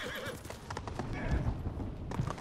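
Horse hooves clip-clopping and a horse whinnying in the samurai video game Ghost of Tsushima, busy and close with game ambience and some speech-like sound mixed in.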